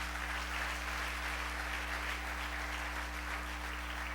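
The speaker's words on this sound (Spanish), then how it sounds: "Dele ese aplauso a Dios" Steady, even applause from a church congregation fills the space, a continuous wash of clapping with a low constant hum beneath it.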